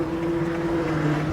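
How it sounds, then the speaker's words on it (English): A Sprinter van engine turning over at about idle despite the accelerator being floored, giving a steady, even low drone with a constant hum and no rise in pitch, heard close and alone. "So I'm flooring the accelerator pedal, and our engine RPMs is 783."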